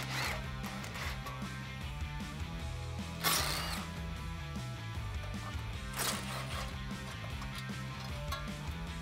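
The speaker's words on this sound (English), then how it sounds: "Now we're gonna switch back over to the 8 millimeter socket and get our dust shield out of the way." An 8 mm socket on a ratchet backs out the dust shield bolts on a Ford F-150 front hub, giving quiet, close clicking runs punctuated by two sharper bursts, with no talk.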